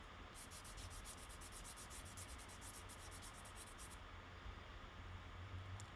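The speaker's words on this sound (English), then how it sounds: "So I'm filing again with intention." Press-on nails worked with a nail file: a fast, rhythmic rasping of short strokes, close but quiet, runs for about four seconds and then stops under a steady background hiss.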